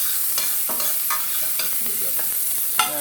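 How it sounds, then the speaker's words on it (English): Ginger frying in hot oil for a bok choy and kale stir fry, sizzling steadily with sharp pops and spatters over a dense hiss. "It's gonna splatter a little bit."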